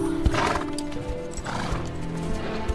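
Horses in a World War I battle scene from a film whinny loudly over rapid clip-clopping hooves, the neighs and hoofbeats overlapping across a short, busy burst.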